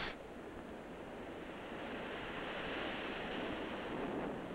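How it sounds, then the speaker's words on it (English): Long, smooth Pacific surf rolling in at Chicama in northern Peru, a steady broadband wash of breaking waves that swells slightly louder over a few seconds, with wind noise over the microphone and no voices. "Waves a mile long and smooth as glass."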